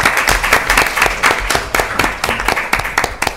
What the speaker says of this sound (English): deserves our applause ahead of time